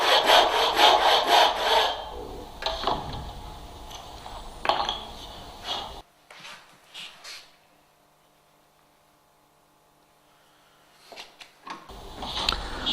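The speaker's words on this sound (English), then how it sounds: "Nice and easy as we get to the tenon, because we don't want to cut into the tenon as this will weaken it." A hand saw cuts through wood for a mortise and tenon joint, giving rapid rasping strokes that slow and fade into a quiet pause before a few more strokes return near the end.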